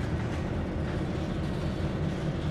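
A train in Train Sim World 2020 slows on its independent brake, giving a steady, loud, low rumble of wheels and running gear with no talk.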